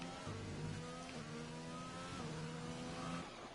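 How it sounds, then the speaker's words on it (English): A Ferrari-powered F1 car engine in the F1 2020 racing game, a steady high-revving drone with a slight pitch shift partway through, continuous and fairly even in level, with no talking. "listen there to a Ferrari powered car"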